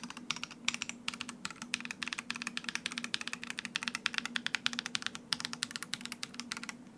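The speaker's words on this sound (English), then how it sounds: "That spacebar sounds amazing." Fast typing on a white Razer Blackwidow V4 75% mechanical keyboard: a dense run of crisp, clacky keystrokes, close and clear, with no talking.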